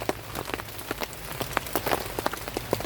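Rain begins falling on a forest at night near the southern Thai border, with scattered drops tapping irregularly and close at hand on surfaces, sharp pattering ticks over a low steady background.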